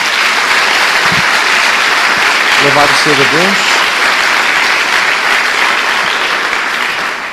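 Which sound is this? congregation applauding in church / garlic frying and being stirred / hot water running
congregation applauding in church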